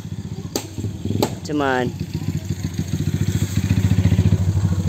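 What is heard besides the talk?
motorcycle engine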